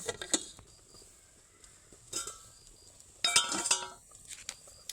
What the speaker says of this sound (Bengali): এবার এটাকে আমি ঢাকনা লাগিয়ে রেখে দেব